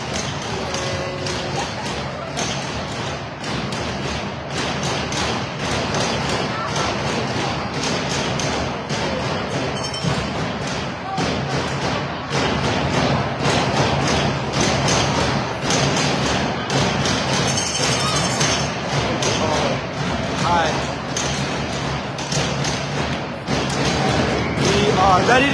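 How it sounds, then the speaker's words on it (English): Drums bang steadily in the crowd at an Islanders vs. Northern Cyclones ice hockey game, a dense, loud run of thuds under continuous arena noise and commentary. "A lot of banging drums."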